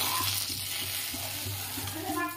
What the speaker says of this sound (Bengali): আগে বেগুনটা ভেজে তারপর আলুটা দেবো